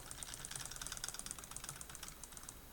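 Quiet, rapid clicking and ratcheting of the wooden gear mechanism in a UGEARS 3-D wood model tractor shifted into drive, a fast, even rattle heard up close.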